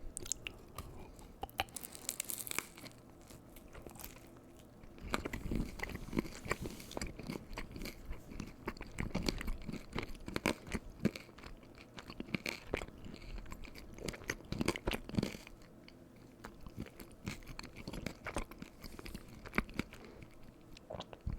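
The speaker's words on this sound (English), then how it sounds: "Crunches are very loud in my ear." Cream cheese wontons are bitten and chewed close to the microphone, with sharp crunchy bites followed by repeated wet crunching chews in irregular bursts, quiet and intimate, with no talking.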